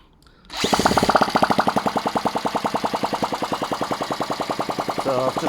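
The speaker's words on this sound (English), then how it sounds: "I'll use my electric drill to whiz it over and get it going" An Ariel Pixie motorcycle engine spun over by an electric drill, a loud rapid regular chugging of compression pulses that starts abruptly and runs steadily throughout.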